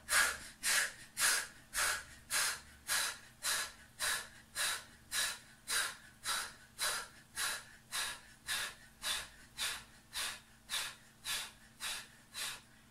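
Rhythmic breathing during a Pilates exercise, about twenty quick, even, forceful breaths in a steady pulse, close and clear with no talk.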